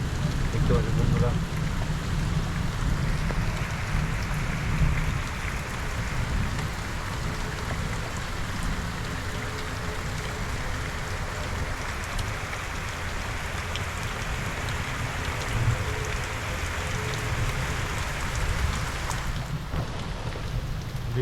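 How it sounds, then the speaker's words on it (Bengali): Heavy rain pours down steadily beside a roadside pandal near Bhootnath ashram during a thunderstorm with lightning, a soaked motorbike parked nearby; a dense, continuous hiss fills the whole stretch, with a louder burst at the start. "বৃষ্টি থামিয়েছিল, আবার স্পিড বেড়ে গেছে বৃষ্টি।"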